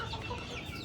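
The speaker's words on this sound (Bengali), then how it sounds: "এই মুরগিগুলোকে প্রোটেকশন দেওয়ার জন্য আমরা" Chickens cluck softly and steadily inside a winter shed warmed by a 150-watt infrared lamp. The sound is faint and continuous.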